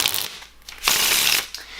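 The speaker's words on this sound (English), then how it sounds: "Even doing a riffle shuffle as well, it does do a really nice riffle shuffle" Sleepers playing cards in a riffle shuffle, two quick bursts of fluttering, ratcheting card clicks close to the mic, the second longer and louder.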